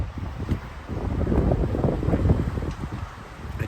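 Strong wind gusting over a spring campsite on Georgian Bay, a loud steady roar buffeting the microphone and flapping a tent, swelling and easing across the clip.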